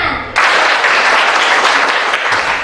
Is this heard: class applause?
yes